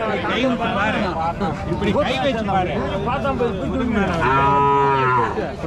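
Cattle lowing repeatedly at a busy livestock market in Matrapalli, Tiruppattur, with several long, loud moos, one drawn out near the end, over steady crowd chatter and talk.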